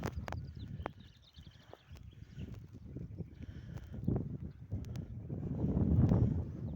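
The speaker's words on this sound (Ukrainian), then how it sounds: "вітер у нас на дворі" Steady wind buffeting outdoors, a low rumbling gust that swells toward the end, with faint chirps now and then.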